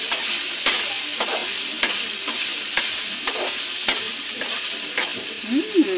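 Garlic sizzles steadily in a hot pan for sotanghon con carne, with spatula stirs scraping through the frying at fairly regular intervals, close by and with no speech.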